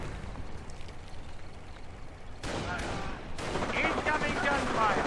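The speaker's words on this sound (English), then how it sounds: "Incoming gunfire." Battle gunfire in a WWII strategy game, dense rapid shots rattling throughout and growing louder and busier partway through, with a voice talking over the fight.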